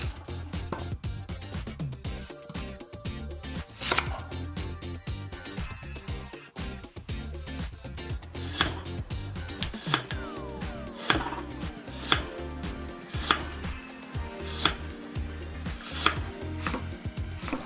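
A dull kitchen knife, unsharpened for years, chops food on a cutting board, starting in uneven strokes and then settling into sharp, regular chops, close and fairly quiet.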